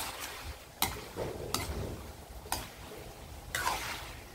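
Pork rinds fry in oil with a steady, soft sizzle, broken about once a second by sharp clacks from stirring, close up with no talking.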